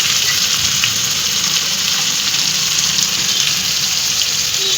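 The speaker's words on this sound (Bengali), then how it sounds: "এই তেলেই আমার যে মাখানো মাছটা আছে, মাছটা আমি দিয়ে দিই।" Marinated prawns coated in turmeric, salt, chilli and cumin powder sizzle and fry steadily in hot oil, a loud, continuous close crackle and hiss with no pauses.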